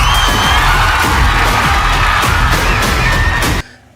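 Loud, sustained cheering and whooping from a studio audience at a Tamil reality show, dense crowd noise with shouts throughout that cuts off abruptly near the end.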